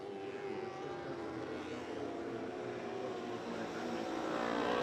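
A superbike accelerates hard at a road race in Finland, its engine a loud continuous roar that builds steadily in volume toward the end, heard without any talking.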